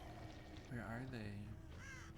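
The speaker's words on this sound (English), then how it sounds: "Thought I heard a crow." A crow caws in a video game, a pair of harsh, drawn-out calls at moderate volume over a steady background hum.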